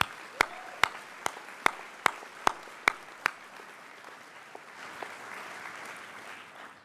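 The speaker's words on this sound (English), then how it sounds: "give a big round of applause to your loved ones for all they've done" At a medical school white coat ceremony, eight sharp, evenly spaced claps ring out one by one, then scattered faint applause and room noise linger afterward.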